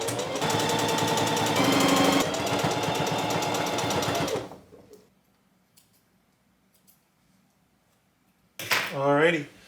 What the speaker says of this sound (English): We're just going to be sewing with a straight stitch.